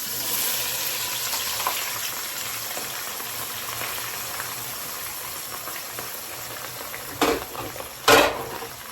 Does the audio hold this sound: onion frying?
yes